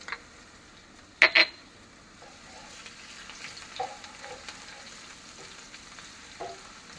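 Onion, garlic and ginger fry in a pan of oil for Jamaican curry shrimp, a steady soft sizzle broken by a sharp clatter of stirring near the start and a few faint ticks later.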